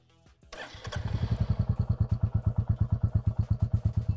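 A Royal Enfield 350 single-cylinder motorcycle engine starts and settles into a steady, thumping idle, each firing pulse distinct and evenly spaced, close and loud.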